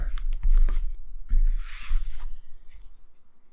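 Playing cards drawn from a deck during a tabletop card game, with quick papery slides and snaps in a short burst, close and fairly loud, then fading to quiet.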